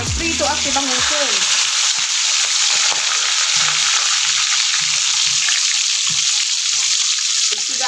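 Food fries in a hot pan with loud continuous sizzling and crackling, close up, while a voice speaks briefly at the start and a few faint knocks of stirring come through.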